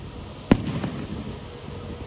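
A single sharp firework explodes with a loud, close boom on the Fourth of July, followed by a brief, fading crackle against a low outdoor rumble.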